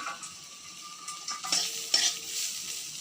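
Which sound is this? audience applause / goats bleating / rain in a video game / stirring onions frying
stirring onions frying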